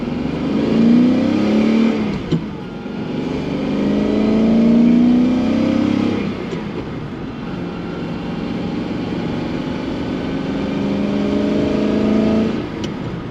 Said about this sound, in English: A little bit of quarter throttle, running through the gears. That was first, second, and third.